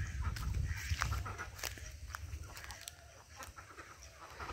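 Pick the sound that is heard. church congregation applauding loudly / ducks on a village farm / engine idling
ducks on a village farm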